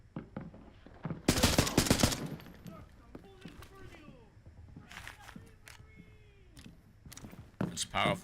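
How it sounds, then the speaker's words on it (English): Banshee gun in a video game firing a loud, dense burst of rapid shots, followed by scattered single cracks and clicks, with someone talking in between. "There is a new gun. It's called a Banshee."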